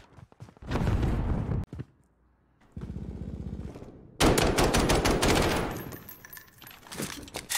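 Rapid gunfire in the battle royale shooter Warzone, long sustained bursts of automatic fire broken by a brief silence and a lower mechanical whirring stretch, then a loud, dense volley. No one speaks.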